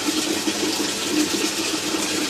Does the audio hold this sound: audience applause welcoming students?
no